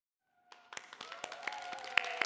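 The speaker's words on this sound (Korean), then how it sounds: "박수로 저희가 모실게요." An audience at a KBS television stage show greets performers with scattered claps that start sparse after a brief tone, then thicken into lively applause, with a few sharp louder claps standing out.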